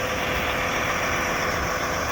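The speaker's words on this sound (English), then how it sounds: "that is a cool tractor. The big one." A big tractor engine runs steadily in a field at dusk, a loud, continuous low rumble with a broad mechanical roar that holds constant throughout with no talking.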